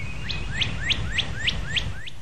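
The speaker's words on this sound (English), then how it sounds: "the birds still sing over frozen morning dew" Birdsong at Table Rock State Park on a frosty morning: a bird repeats a bright rising chirp about seven times in an even rhythm over a low rumbling background.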